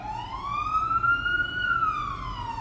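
An ambulance siren passes along a street, a single rising and falling wail that swells loud and then begins to fade, with low road rumble underneath and no voices.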